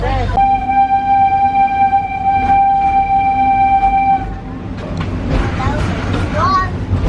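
A long, loud train horn blares steadily for several seconds, then cuts off, leaving rumbling train noise with voices talking underneath, aboard the train to Rafiki's Planet Watch at Walt Disney World.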